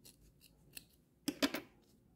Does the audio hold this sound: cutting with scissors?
yes